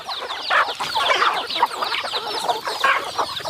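Chickens raised on a rural farm cluck busily nearby, a dense, overlapping flock chatter of short clucks that never stops.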